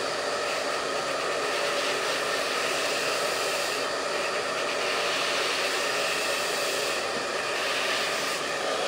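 A handheld hair dryer blows continuously as hair is styled with a round brush. The airflow makes a loud, close, even roar without a break, and no voices are heard.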